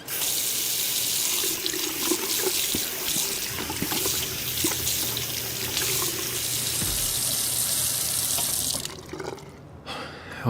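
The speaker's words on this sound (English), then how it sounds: "I need some water on my face." A running bathroom tap splashing water onto a face in the video game Twin Mirror, a steady close gush with brief splashes, cutting off near the end with a few drips and a soft thump.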